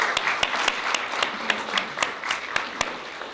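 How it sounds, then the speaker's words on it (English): Audience applause at a teacher excellence award ceremony honoring district teachers of the year, a short burst of dense clapping with a few louder distinct claps near the front, no speech over it. "One more round of applause for them both,"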